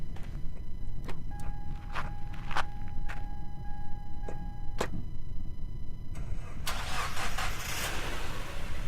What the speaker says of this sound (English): so starting up the car.